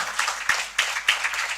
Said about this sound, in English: kindly welcome them with a big round of applause.